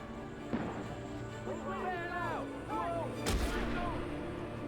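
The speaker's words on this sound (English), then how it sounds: "Again, shooting at me is the craziest fucking thing." In the Alan Wake game, gunfire aimed at the player comes as a few sharp shots and one heavy bang amid a rumbling background, with warbling tones and a voice speaking in between.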